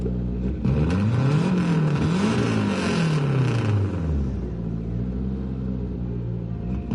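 A car engine in Gran Turismo 7 revs up and down through a rising and falling pitch sweep, slightly raspy at the top end, loud and continuous before settling to a steady low rumble.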